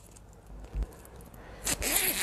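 A zipper on a sewn tote bag is run along its track in two quick rasping pulls, a short one early and a longer, louder one near the end, close up with no talk.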